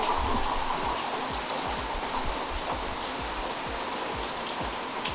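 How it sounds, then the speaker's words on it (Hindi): Heavy monsoon-style rain with big drops pours down steadily, a dense close hiss with low pattering thuds throughout and no voices. "बड़ी बड़ी बारिश गिरी है, बड़े बड़े छीटे।"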